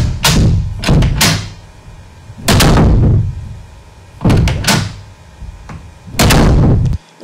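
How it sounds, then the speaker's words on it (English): A stock door sound effect from Windows Movie Maker repeats a door opening and closing, giving loud separate thumps and slams in pairs at roughly regular intervals with quiet gaps between them. "A good 16 seconds of door open, close, am I right?"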